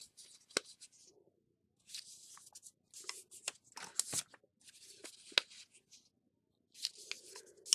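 Scissors cut paper freehand in a close series of crisp snips and rustles, with short bursts separated by brief silences.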